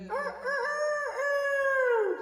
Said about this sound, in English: We have the chicken rooster that crows every morning